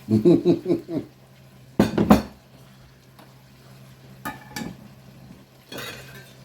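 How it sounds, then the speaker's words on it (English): Pork stirred with white sugar in a pan to caramelize, with bursts of metal utensil scraping and clinking against the pan in several loud clusters, separated by quieter stretches and a low steady hum. "Let me stir this around and get a good caramelized color on it"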